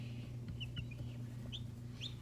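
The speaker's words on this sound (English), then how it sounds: "these are my chickens." Young chickens in a brooder with food, water and a heat lamp give a few soft, scattered clucks and peeps over a steady low hum, heard close and faint with no talking.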